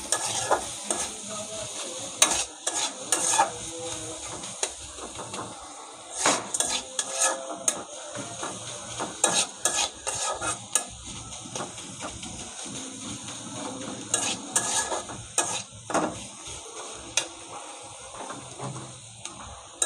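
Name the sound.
stirring and sautéing fish with taro in oil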